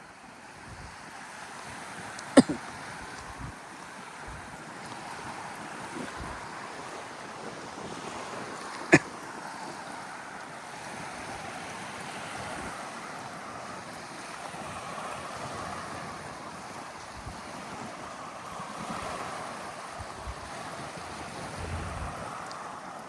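Surf rolls onto the shore at Virginia Beach in a steady, broad wash, with wind buffeting the microphone and a couple of sharp knocks; no voices are heard.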